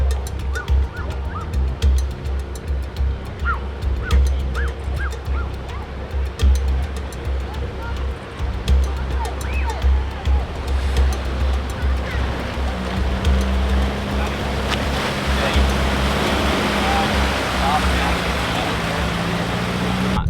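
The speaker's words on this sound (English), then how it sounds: "That last creek crossing was bloody deep." A 4x4 fords a deep creek crossing on an offroad track in Cape York, water rushing and churning around it under a low engine rumble, with people talking over the steady wash.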